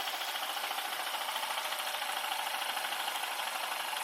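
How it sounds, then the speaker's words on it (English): A miniature steam-powered drill press drilling a hole runs with a steady, high whirring drone that holds an even level throughout, with no voices. "We've successfully drilled a hole."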